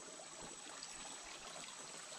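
A jungle creek on a Costa Rica homestead flows with a steady, soft rushing babble, an even wash of water sound at moderate distance, unbroken and without voices.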